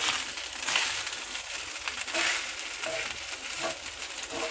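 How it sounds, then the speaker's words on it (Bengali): Rice is stirred with cumin seeds in a pan for jeera rice, making a continuous gritty scraping and faint sizzle, fairly quiet and even, with no talk. "এবারে এটাকে আমি খুব ভালো করে নেড়ে দেবো।"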